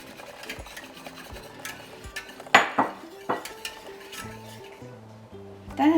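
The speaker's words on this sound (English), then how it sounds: "you want to just continuously whisk" Metal whisk scraping and clinking steadily around a pan of butter and flour, with sharp clanks against the metal and a faint sizzle underneath, close and fairly loud with no talking.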